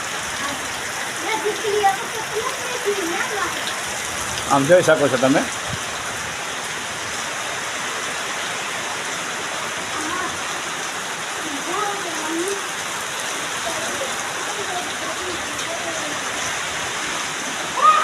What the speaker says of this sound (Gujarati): જોરદાર વરસાદ ધમાકેદાર એન્ટ્રી નાખી